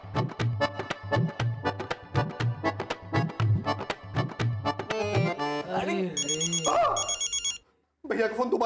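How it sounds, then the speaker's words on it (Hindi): A telephone rings in a Hindi comedy TV serial, repeated bell-like trills in a steady rhythm for about five seconds, followed by a voice speaking and a brief musical sting. "भैया का फोन दोबारा आ रहा है।"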